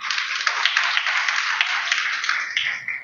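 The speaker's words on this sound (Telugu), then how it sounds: "క్లాప్స్ కొట్టాలి గట్టిగా" Audience at a church training programme clapping loudly, a dense, fast, steady patter of many hands close by, lasting a few seconds without speech.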